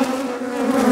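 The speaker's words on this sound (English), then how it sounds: "Lots of bees up here." Honeybees buzzing around an open beehive, a steady dense drone close by with no talk over it.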